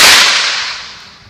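A single sharp crack from a sport whip swung overhead, bright and loud, snapping once and trailing off quickly.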